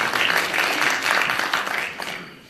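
An audience at a community gathering in Toronto breaks into dense applause, a steady wash of many hands clapping that fades toward the end, with faint voices underneath.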